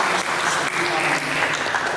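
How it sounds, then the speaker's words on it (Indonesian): A church congregation clapping during a worship service, a brief burst of thick, even applause from many people, loud and continuous from start to finish. "kita berikan tepuk tangan bagi Yesus"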